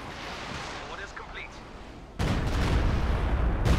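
Stuka zu Fuss rocket artillery barrage in Company of Heroes 2, a faint rushing of the launch followed by a sudden, loud, sustained roar of rocket impacts and explosions that carries on to the end.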